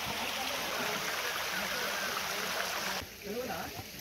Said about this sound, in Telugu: వాటర్ ఫ్లో పోతూనే ఉంది, తక్కువ ఉన్నాయి వాటర్ అనేది